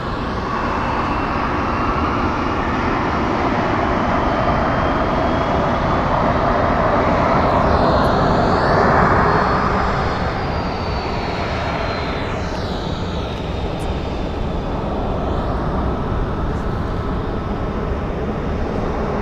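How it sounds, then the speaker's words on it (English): A Southwest Airlines Boeing 737-700 taxiing at Phoenix Sky Harbor Airport, a continuous loud jet engine roar with a whining high tone that swells and eases slightly, heard alone without talk. "taxiing here is going to be Southwest Airlines 1225 going to Oakland, California on a Boeing 737-700"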